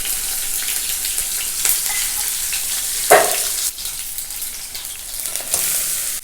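Green chilli and ginger sautéing in a pan, a loud steady sizzle with occasional stirring scrapes and one sharper clatter partway through.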